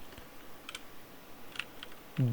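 A command being typed on a computer keyboard, heard as a few sparse, quiet keystroke clicks close by over a faint background hum, with no talking.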